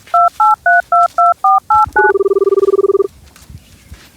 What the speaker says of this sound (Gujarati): ઈશ્વરલાલ ફોન લગાવો તા પેલો નંબર આલો એ લગાવીએ